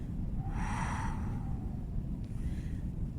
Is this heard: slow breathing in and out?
yes